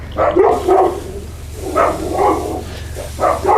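A dog barks in a quick series of sharp yips and woofs, close by, over a low steady hum.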